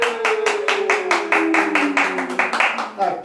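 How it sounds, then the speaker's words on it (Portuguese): Studio audience clapping to welcome a special guest on a talk show, a quick run of sharp, close claps over about three seconds while a voice carries on underneath. "vamos receber aqui com palmas, a nossa convidada especial de hoje, Raíssa Rosa."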